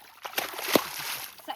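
Water splashes over a child's head during a bath outdoors in a village, a couple of quick splatters under ongoing chatter.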